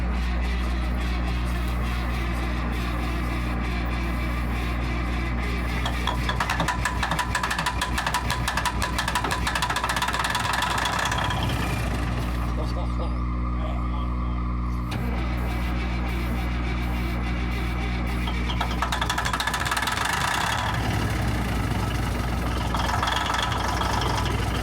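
An unmuffled engine on a piece of scrap auction equipment, started with ether, runs loud and close with a steady heavy low rumble and rough knocking throughout, surging at moments.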